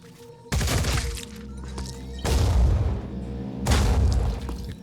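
Autocannon fire and impacts in the video game Phoenix Point, three heavy booming blasts spaced about two seconds apart, each with a crunching, shattering tail that rings out before the next, loud and close with no talking.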